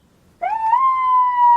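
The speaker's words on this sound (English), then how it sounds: "Let's go try the siren out." A police interceptor's siren switched on at about half volume: after a short quiet moment it starts abruptly with a rising wail, then holds a steady, loud tone for the rest of the clip, with no talking.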